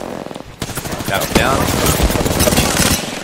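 Rapid automatic gunfire in a video game, bursts of shots crackling up close under a player's urgent voice.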